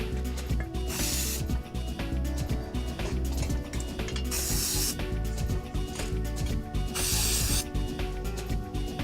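Rough truck bed liner coating is sprayed in repeated hissing bursts with scraping and rubbing sounds between them, close up and steady.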